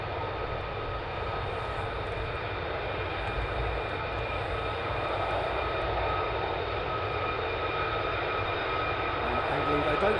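A military jet flies near RAF Lakenheath, giving a steady, loud roar with a continuous engine drone that holds throughout and builds slightly toward the end.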